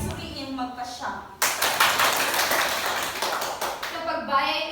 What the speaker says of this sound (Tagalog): Ang hiling ko'y salubungin ng palakpak ang dalawa.